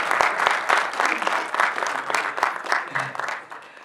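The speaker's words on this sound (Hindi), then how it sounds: "आप भी तालियां बजाएं, कुछ नहीं होता।" Audience applause fills a hall at an Iqbal Day conference at Alhamra Art Center, with dense, steady clapping from a crowd and a faint voice running underneath.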